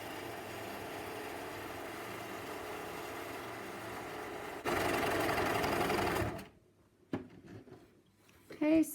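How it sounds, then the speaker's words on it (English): A sewing machine stitches shirring elastic with a fast, even mechanical whir, running louder near the end of the run before stopping, followed by faint handling clicks. "I'm going to stitch around and around in the same place to see if the elastic effect becomes tighter."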